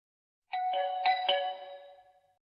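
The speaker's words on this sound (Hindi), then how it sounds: "घर की बेल बजाओ ना" A house doorbell chimes once up close, a bright ding-dong of a few tones ringing out and fading into silence.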